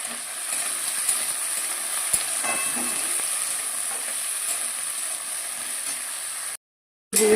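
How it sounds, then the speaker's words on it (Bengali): Vegetables and potatoes frying in hot oil in a wok, a steady close sizzle with occasional stirring scrapes, breaking off briefly near the end before resuming. "সবজিগুলোকে আমি একটু ভালো করে ভেজে নিচ্ছি"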